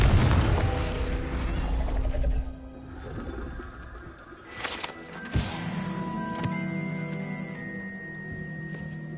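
A Confringo fire spell is cast in Hogwarts Legacy. A rumbling blast fades out, then a sharp magical crack and a shimmering, ringing tail follow, with tonal chimes hanging in the air afterward.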